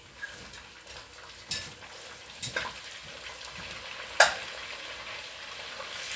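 Meatballs frying in a pan give off a quiet, steady sizzle, with a few sharp clicks and clatters of a utensil or pan standing out now and then. No one speaks.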